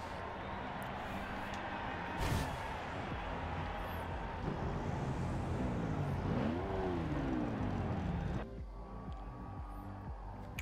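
A McLaren F1 supercar's engine in the Forza Horizon 2 racing game roars steadily and loudly, swelling into a rising rev midway before cutting down to a quieter hum near the end.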